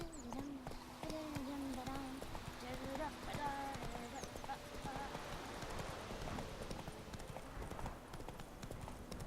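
Rhythmic hoof clip-clops of a horse running in the video game The Witcher 3, steady and close, with a brief whinny and someone talking over it throughout.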